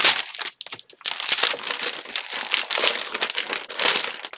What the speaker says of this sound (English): Close your ears for the crinkling if you don't like that.